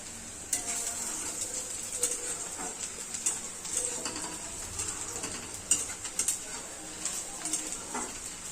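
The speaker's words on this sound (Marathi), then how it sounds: "बघा पहिला कांदा फ्राय करून घेते मस्त एकदम" Onions frying in a pan, a steady close sizzle broken by frequent scraping stirs, with birds cooing faintly in the background and no clear talk.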